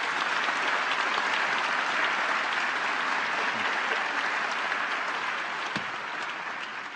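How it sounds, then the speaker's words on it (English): An audience applauds to welcome Rich Stearns, president of World Vision, with steady, full clapping throughout that tapers slightly toward the end. "would you just give him a round of applause here?"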